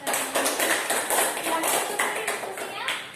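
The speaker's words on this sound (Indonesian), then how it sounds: "Ini tepuk tangan untuk teman-teman." Classmates clapping after a group presentation in a classroom: brisk, continuous applause from a small group, close and fairly loud, with some voices mixed in.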